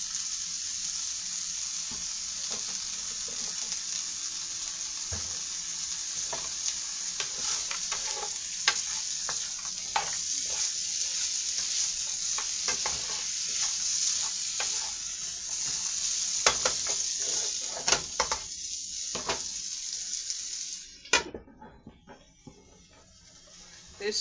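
Food frying in oil in a pan: a steady, close sizzle with repeated scrapes and stirring clatter, fading to a quieter hiss near the end. The dish is tuna, rice and vegetables.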